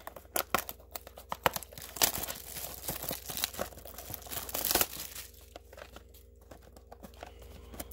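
Cardboard and plastic wrapping of a 2020 Select Baseball card blaster box crinkle, tear and crunch in close, irregular bursts, fairly quiet with no talking.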